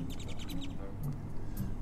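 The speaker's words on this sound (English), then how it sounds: "The people in the truck were just feeding the birds." Birds gather to be fed from a truck beside a stone fishing pier in Rockport, Texas, giving a short run of quick chirps and calls over low outdoor rumble and faint background voices.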